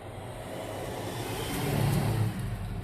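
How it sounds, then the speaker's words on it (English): A car passes on a road beside a parked manual five-speed Ford Ranger pickup, its engine rumble swelling as it approaches, peaking, then easing off slightly, steady and fairly close with no talking. "Car coming."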